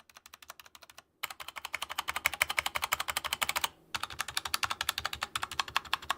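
Rapid keystrokes on a $50 K530 keyboard with modded stabilizers, in a steady clacky rhythm, close up and alone, with two brief silent gaps between bursts of typing.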